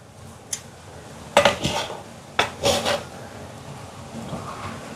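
A ladle knocks and clinks against cooking pots in a few sharp metallic bursts with short scraping tails, close by, over a quiet room background and with no talking.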